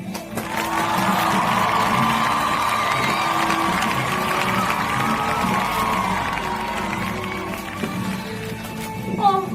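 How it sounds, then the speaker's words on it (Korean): An audience at an award ceremony cheers and applauds as the singer of the year award is announced, a steady crowd roar with whoops and shouts that lasts the whole stretch, with voices mixed in. "축하합니다 박수 쳐주세요"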